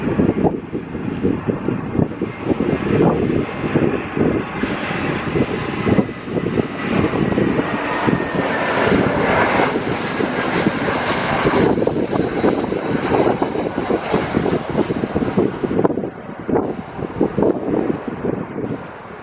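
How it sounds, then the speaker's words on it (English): A Lufthansa Airbus A321 with IAE engines lands at Stockholm Arlanda, its engines giving a loud, continuous roar close by, with heavy wind buffeting on the microphone throughout. "Inbound from Frankfurt is the Lufthansa Airbus A321."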